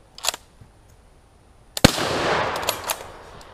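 Turk Mauser rifle fired at 15 yards outdoors, a faint sharp crack early on, then a loud close report followed by a rolling echo and scattered clicks.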